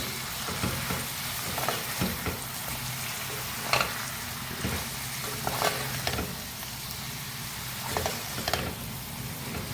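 Mutton and okra with fresh green coriander are stirred in a hot, sizzling pan, with a steady frying hiss and repeated scraping stir strokes throughout and no talking.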